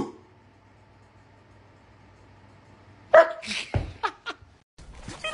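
A dog at home barks in a few sharp, loud bursts close by after several seconds of near silence.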